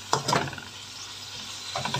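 Chopped mint and coriander leaves being fried in a pan for biryani, with a couple of quick spatula scrapes early on over a soft, continuous sizzle, heard up close with no talking.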